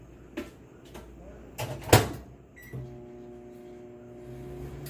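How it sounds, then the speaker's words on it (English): A few clunks of a microwave door closing and buttons pressed, then the oven starts with a steady low hum, melting butter inside. "Let's put the butter in the microwave to get that to start melting."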